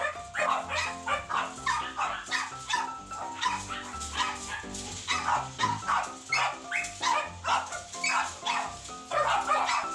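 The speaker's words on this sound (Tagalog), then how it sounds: "Madaming aso." Many dogs bark and yip over and over in a pet shop at the Cartimar market, a dense, busy chorus of overlapping barks that carries on throughout.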